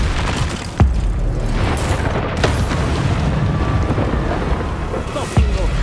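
A Confringo blasting spell goes off in Hogwarts Legacy, with heavy booming explosions at the start and near the end over a constant rumbling, roaring game background. The blasts are loud and close.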